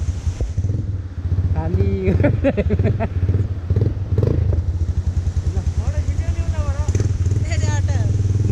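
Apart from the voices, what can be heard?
Royal Enfield Bullet motorcycle engine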